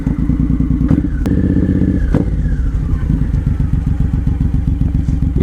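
A Suzuki M109R Boulevard cruiser with Cobra swept exhaust idles loud and close with a steady, deep, lumpy engine pulse, while a couple of heavy thuds and clatters mark it being pushed up a loading ramp.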